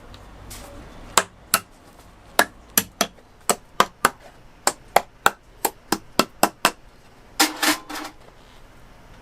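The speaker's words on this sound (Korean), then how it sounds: "다시 떼어내야 하기 때문에 못을 너무 깊게 박지 않고 살짝만 고정시켜 줍니다." Light hammer taps setting nails shallowly into a shoe last to hold material for a handmade hiking boot, about fifteen sharp, crisp strikes at an uneven pace followed by a brief rustle, no talking.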